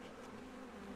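Honeybees from a colony living in a chimney make a steady, soft, continuous buzzing hum throughout, fairly close and unbroken, with no talking.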